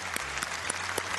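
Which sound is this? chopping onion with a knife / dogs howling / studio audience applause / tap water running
studio audience applause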